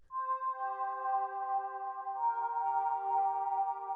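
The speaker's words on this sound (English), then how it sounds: "The last sound that we have here is this lead" Soft, sustained synth lead in ambient music, with steady layered tones and gentle stepwise notes gliding over a quiet bed, continuous and calm throughout with no voices.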